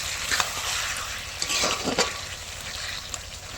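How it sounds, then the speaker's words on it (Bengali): Chicken frying in a pan over a stove, a steady loud sizzle with occasional scraping stirs, close and nearly free of speech. "এখানে চিকেন রান্না হচ্ছে"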